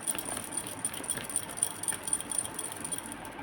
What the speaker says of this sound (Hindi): My last shuffle.